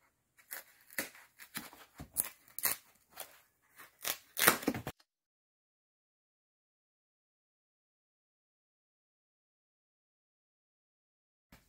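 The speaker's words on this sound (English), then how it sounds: "We'll use some scissors for this." Scissors cut through foam padding for a window air-conditioner mount on a small travel trailer: a close run of crisp, uneven snips for about five seconds, then silence.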